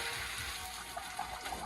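Pasta cooking water pouring from a pot through a colander in a home kitchen, a steady loud gushing splash that runs without a break for the whole moment, no talking over it.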